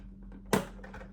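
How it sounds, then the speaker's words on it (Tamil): A KYT TT Revo grey motorcycle helmet visor snaps into its locked position with a single sharp, close click over a low steady hum, with no voices. "ஸோ இந்த சவுண்டு வரணும், அப்போ தான் லாக் ஆகிருக்குன்னு அர்த்தமா."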